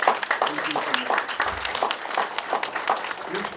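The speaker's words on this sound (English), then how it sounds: "Let's give him a round of applause." An audience at the Palau Blockchain Summit claps for an arriving senator, with steady, moderately loud applause filling the room throughout while a voice talks over it.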